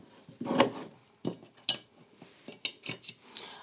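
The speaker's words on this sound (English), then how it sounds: "I will be adding some washers as well." Small metal washers clink and jingle in a handful of sharp, separate taps while a simple woodworking router jig is put together, close and fairly quiet with no talking.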